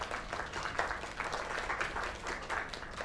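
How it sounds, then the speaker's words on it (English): Crowd applause in the video game Lake after a singer's performance, a steady wash of many hands clapping at moderate distance, fairly faint, with no voices over it. "Another round of applause."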